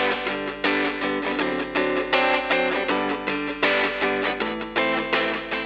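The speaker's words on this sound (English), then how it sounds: "Now let's hear it with delay." An electric guitar through a delay effect plays a riff of chords whose repeats smear into one another, so the sound keeps ringing without gaps, loud and up close.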